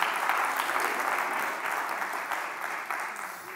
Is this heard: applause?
yes